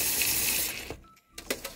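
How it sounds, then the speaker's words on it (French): Tap water runs steadily into a bathroom sink for soil in a stainless dish, a close, bright rushing that cuts off abruptly, followed by a few splashes and drips. "Je mets un peu d'eau à la fois."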